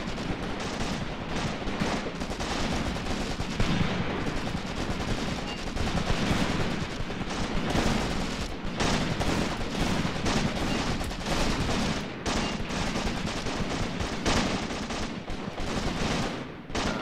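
Sustained gunfire in Graviteam Tactics, a dense crossfire of rifle and machine-gun bursts, constant and loud with distant booms, almost no talk.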